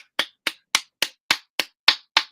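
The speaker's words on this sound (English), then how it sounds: "Give her a clap, everybody." Eight sharp claps in a steady, evenly spaced rhythm, each crisp and loud with a quick decay. The claps sound alone, with no talking.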